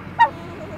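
A single short honking call from a turkey on a homestead as the big, strong birds are caught for butchering, rising briefly over a quiet background.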